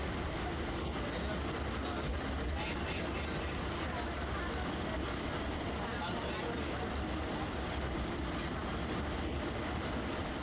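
A local train runs at speed on the Howrah–Barddhaman chord line, a loud, steady rumble and rattle of wheels and carriages heard from on board, continuous throughout with faint voices in the background.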